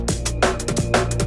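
A short drum and bass break plays with tight, clipped snare and kick hits over a droning bass, quick and punchy.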